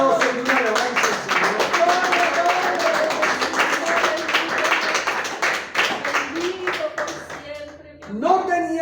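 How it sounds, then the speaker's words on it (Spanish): Applause rises from a congregation at an evangelical celebration service in church. Dense, rhythmic clapping continues under raised voices and speech, then fades as a voice comes up near the end. "Démosle un aplauso y una alabanza"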